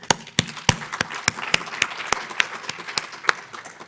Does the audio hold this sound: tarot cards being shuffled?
no